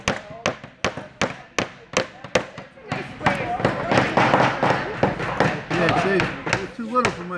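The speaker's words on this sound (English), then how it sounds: "Take your hammer." A hammer strikes about ten sharp blows in steady succession, driving nails into wood at a kids' workshop, then softer tapping continues under overlapping chatter and talk.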